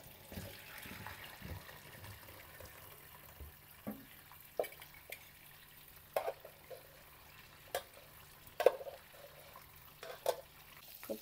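Cooked vegetables drained in a kitchen: faint trickling and dripping water with scattered light clinks and taps, quiet and close.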